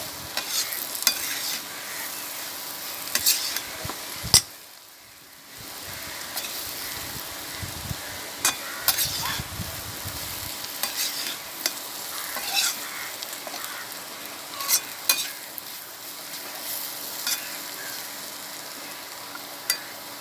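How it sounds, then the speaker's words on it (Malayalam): Jackfruit seeds frying with garlic in a pan, a constant close sizzle broken by repeated scraping and clinking as they are stirred, with one brief quiet gap. "എന്നിട്ട് ഇളക്കി കൊടുക്കുക"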